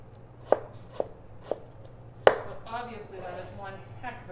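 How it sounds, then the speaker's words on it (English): A very sharp knife julienning an apple on a cutting board, four crisp chops in an even rhythm with the last one loudest, followed by softer slicing sounds and a voice talking over them. "So I'm just now going to just do a little quick julienne."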